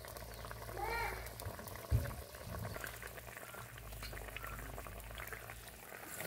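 Curry in a pot coming to a boil, a soft steady bubbling hiss held at an even level for several seconds, with a brief clatter near the start and faint background noise.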